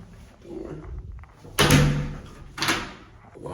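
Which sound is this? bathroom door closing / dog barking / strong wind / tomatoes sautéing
bathroom door closing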